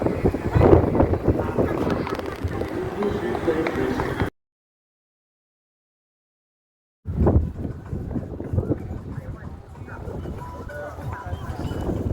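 Strong wind buffets the microphone with a rough roar while people talk at a crowded Chinese New Year outing, broken by a few seconds of silence before the gusts and voices resume.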